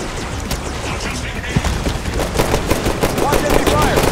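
Dense enemy gunfire in the Halo 5 Warzone match on Darkstar Station: rapid overlapping shots and bursts crackle without pause, loud and close, with a brief voice somewhere in the mix.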